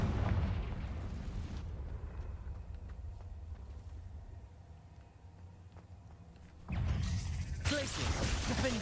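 The Confringo explosive spell goes off in Hogwarts Legacy. A heavy blast opens the clip, a low, quieter mechanical rumble follows, and two more sharp bursts land near the end.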